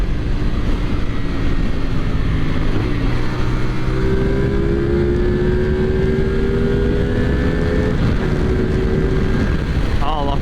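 A 450SR motorcycle speeds away, its engine droning loud and steady with rising pitch under heavy wind rush.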